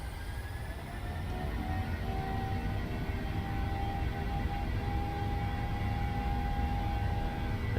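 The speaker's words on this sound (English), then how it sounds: "Airplane sounds a little different." Airliner jet engines of a PMDG 737 in a flight simulator, spooling up at takeoff thrust on the roll: a steady, loud, broadband roar with a low rumble and faint high whine, continuous throughout.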